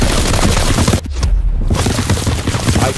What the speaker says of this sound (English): I'm shooting anywhere, to be honest.